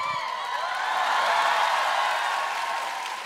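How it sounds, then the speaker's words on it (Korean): Studio audience at a Korean gag concert comedy show applauding steadily, a dense wash of clapping that swells toward the middle and holds without talk. "박수 치지 마세요. 인기 많아 보이니까 박수 안 치셔도 돼요"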